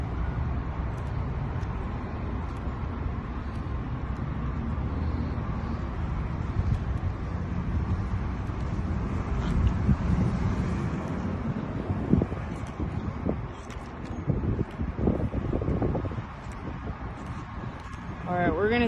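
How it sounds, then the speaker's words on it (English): Strong wind buffets the microphone outdoors, making a constant low rumble with gusty surges throughout, while a person talks intermittently beneath the noise. "it's a little windy out here and loud"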